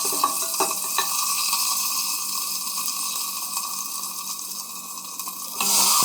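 Gizzards sautéing in hot oil with garlic and lemongrass, a steady close sizzle with stirring scrapes running throughout and a brief louder burst near the end.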